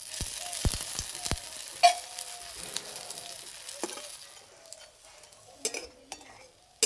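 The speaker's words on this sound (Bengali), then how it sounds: "এই পিঠ ওপিঠ ভালো করে ভেজে নিয়েছি" A rice and semolina pancake fries in a pan of oil with a quiet, thin sizzle. Sharp utensil clinks and taps come through, and it fades toward the end.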